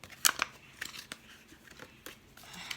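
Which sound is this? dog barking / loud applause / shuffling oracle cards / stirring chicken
shuffling oracle cards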